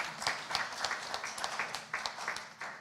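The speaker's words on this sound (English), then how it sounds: "let's clap for ourselves" A commencement ceremony audience clapping for themselves in scattered, distinct claps, fairly faint and distant in a large venue, with no talk over them.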